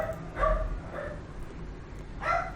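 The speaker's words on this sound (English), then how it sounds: "Don't ask me how you're hearing the dogs." Dogs bark in the background of a dark fantasy dungeon game: three separate bursts of barking, moderately loud and spaced unevenly, over a low ambient rumble.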